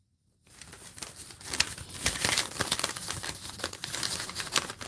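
A paper receipt for car brake pads being handled and crinkled close up, giving a continuous dense rustling and crackling that starts abruptly after a brief silence.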